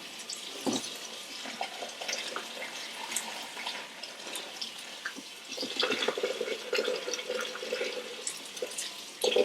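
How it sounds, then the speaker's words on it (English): Cold water runs from a kitchen tap to rinse chopped zucchini, a steady close splashing stream with small clatters as it pours into a measuring cup and drains. "So I'm just running the water through."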